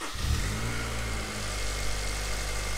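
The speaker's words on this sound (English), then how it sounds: "Again, we preset the timing chain, so it takes a second to build oil pressure and quieten up." The engine of a Honda S2000 with a freshly rebuilt cylinder head starts up and settles into a steady, close idle. Mechanical timing-chain rattle runs through the engine note while oil pressure builds.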